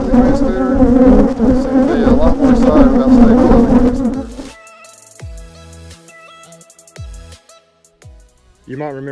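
Aggressive honey bees around a hive that has not swarmed, a dense close buzzing drone for several seconds, then quieter scattered sounds afterward.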